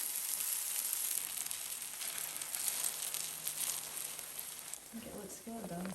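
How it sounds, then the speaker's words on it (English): A steady hiss of food frying in a small pan crackles on, and a voice briefly speaks near the end. "Sizzle number 2 for the baby pan."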